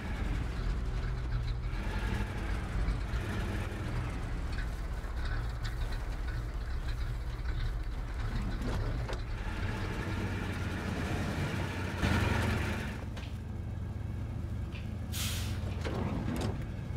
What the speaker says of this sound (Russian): Очень крутой звук двигателя